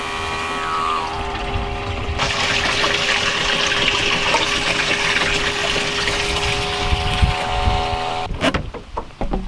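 A pump fills a mini bass boat's live well on the Occoquan Reservoir, a loud, steady gushing of water with a constant pump hum that ends in a few splashes and knocks.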